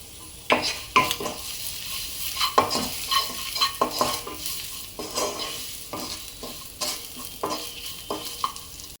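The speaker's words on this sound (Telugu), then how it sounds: "ఈ ఎగ్స్ని ఫ్రై చేయాలి, కలుపుకుంటూ కలర్ వచ్చే వరకు" Whole boiled eggs fry in a pan for egg pulao with salt and turmeric, a steady sizzle under repeated scraping stirs of a spoon against the pan, close and fairly loud with no talking.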